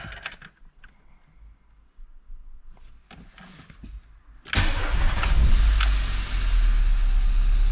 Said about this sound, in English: Let's go ahead and get her started up